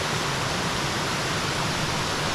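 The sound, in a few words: waterfall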